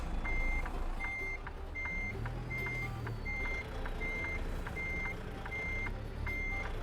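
An in-game semi truck in American Truck Simulator backs up while its reversing alarm sounds a steady series of evenly spaced, high electronic beeps, repeating about every half second over a continuous low engine rumble, with no voices.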